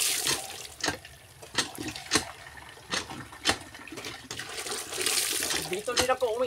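Free-flowing tap water running unmetered at a rural provincial spring or faucet, a steady splashing stream with sharp drips and bursts, close by, with faint voices in the background.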